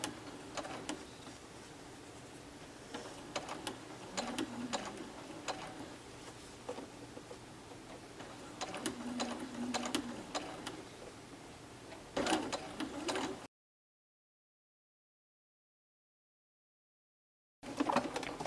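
A sewing machine stitches curved quilt blocks, running in a steady rapid ticking chatter with brief pauses, then cutting out to silence for several seconds before resuming.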